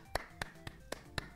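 Hand claps from a single person after a relationship proposal presentation: five sharp, evenly spaced claps in a quiet room, each crisp and isolated, with no voices.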